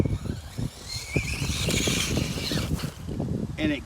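An Axe 3300 R2 Ryft RC car, due a new spur gear, runs with a rough, rattling motor that keeps winding out after the throttle is released, with mechanical clatter and a short rising whine near the end; close and fairly loud.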